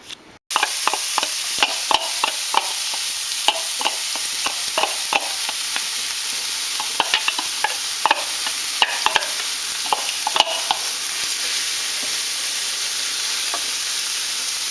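Garlic frying in a pan over a large burner at medium-high heat for a lasagne sauce, a steady close sizzle with scattered crackles and occasional stirring clicks, with no talking.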